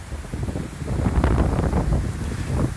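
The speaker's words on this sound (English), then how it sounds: "So the wind is starting to pick up." Wind picking up after Hurricane Irma at Disney's Port Orleans, a steady roaring rush with buffeting gusts against the microphone, swelling slightly in the middle and continuing without any voices.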